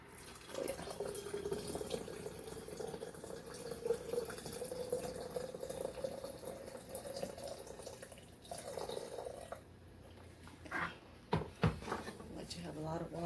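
Water poured from a tap into a container to steep Moses-in-the-cradle plant leaves for tea, a steady trickling stream at moderate distance, mostly under a person talking, with a few splashes and clinks toward the end.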